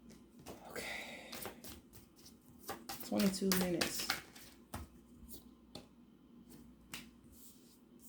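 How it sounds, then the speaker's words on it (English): Tarot cards being shuffled by hand, giving soft riffling and flicking bursts with sharp taps scattered throughout, close and fairly quiet, while a voice speaks briefly. "I don't know why I'm still shuffling."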